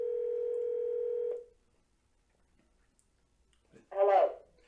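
A telephone dial tone hums steadily for just over a second and cuts off, followed by silence and then a short burst of ringback or line sound; no one speaks.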